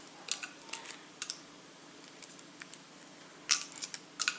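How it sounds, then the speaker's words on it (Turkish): Boiled eggs being peeled by hand, with scattered small crackling clicks and taps as shell fragments break away, some grouped in quick bursts, close and fairly quiet with no talking. "Ve şimdi yumurtalarımı soyuyorum arkadaşlar."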